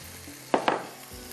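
Gram flour is roasted with spiced minced meat and curry leaves in a pan, a soft sizzle running throughout with two brief scraping stirs of a utensil close by.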